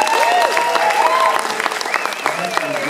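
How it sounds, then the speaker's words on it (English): Crowd at a talent show clapping for the band, loud and close. Tonal whoops and cheers swoop over the clapping and it thins slightly toward the end. "everyone should give a huge round of applause for the band"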